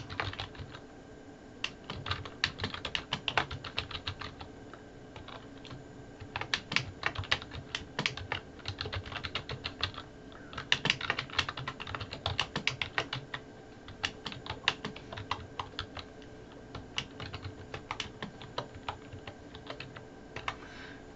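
Steady typing on a computer keyboard, with rapid uneven key clicks that continue throughout, close and moderately loud over a faint room hum.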